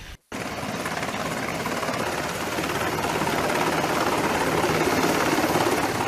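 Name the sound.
MH-60 naval helicopter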